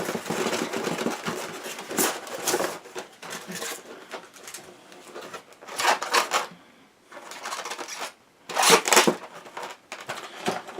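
An Eaglemoss special edition XL Enterprise C model box being opened: steady close rustling and scraping of cardboard and packaging in bursts, a brief pause, then more handling noise.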